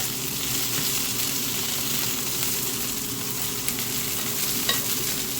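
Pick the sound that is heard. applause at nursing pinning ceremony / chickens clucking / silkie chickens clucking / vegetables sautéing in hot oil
vegetables sautéing in hot oil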